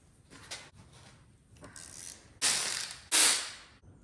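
A ratchet loosens the connecting rod bolts during the teardown of a 1970 GMC 2500 engine. A few quieter clicking strokes lead into two loud, close bursts of rapid ratcheting near the end, with no talking.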